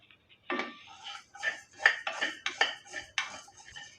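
Coriander seeds dry-roasted in a kadai, stirred with a ladle that scrapes and clinks against the metal pan in a series of short, close, irregular strokes.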